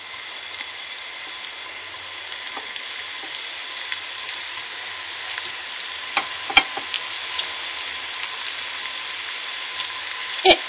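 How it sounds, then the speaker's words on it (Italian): Steady crackling sizzle of meatballs frying in shallow oil, continuous and close, with occasional sharper pops and spits. "E le facciamo friggere in modo uniforme."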